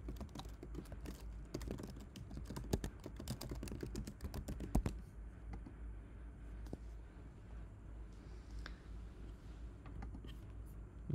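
Keys on a computer keyboard clack quickly as an email and password are typed, a dense burst of close, fairly quiet clicks that thins out to a few scattered taps.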